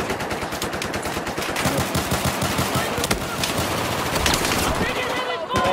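Battlefield 4 gunfire rattles continuously throughout, dense bursts of machine-gun fire and scattered shots loud and close, with a player's voice mixed in beneath the shooting.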